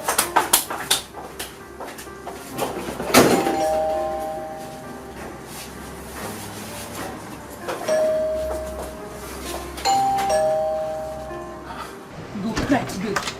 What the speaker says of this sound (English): Tonto, why are you pressing the house bell like that?